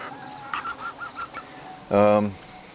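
Chickens on fresh grass at an off-grid solar homestead cluck softly in a quick run of calls, then one louder, drawn-out squawk rings out nearby.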